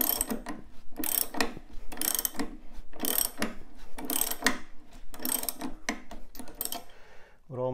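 Hand tools work nuts on a workbench, giving a steady series of close ratcheting clicks in repeated strokes, each burst separated by short pauses, with no one speaking.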